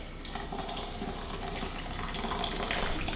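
Four cups of boiling hot water pour steadily into a container, a continuous rushing splash that holds at an even level for the whole stretch with no talking.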